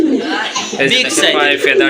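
Lahori pigeons coo softly and repeatedly at close range, almost continuously mixed with people talking nearby.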